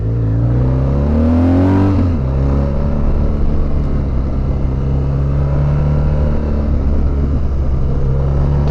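A BMW R1200GS Adventure motorcycle engine pulls up through the revs, its rumble rising in pitch for about two seconds, then settling into a steady loud drone with constant wind noise over the rest.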